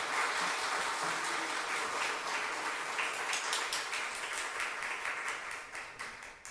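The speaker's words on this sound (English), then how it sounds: "feel free to give them a round of applause to show your appreciation to the string band." A church congregation at a Sunday service applauds a string band, a dense, steady wash of many hands clapping that holds for several seconds and then thins toward the end.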